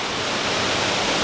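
A waterfall at Knott's Berry Farm amusement park pours as a broad, steady roar of falling water, close and loud, with no voices.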